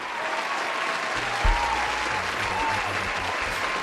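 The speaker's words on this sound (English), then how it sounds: "There's hands clapping. Applause and an applause." Audience applause with many hands clapping steadily throughout, a dense continuous patter from a crowd at a live comedy show, with brief louder bursts and faint voices beneath.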